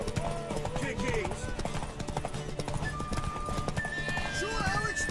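Rhythmic clip-clop of hooves with a horse whinnying, set against game music and a voice talking over it, from The Witcher 3: Wild Hunt.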